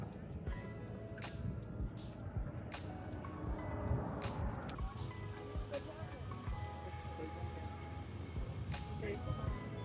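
Vehicle traffic on Interstate 11 beside the Hoover Dam bridge passes as a low, steady roar with sharp intermittent bumps and clatter, heard under someone talking.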